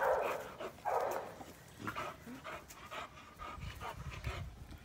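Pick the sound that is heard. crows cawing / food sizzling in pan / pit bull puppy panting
pit bull puppy panting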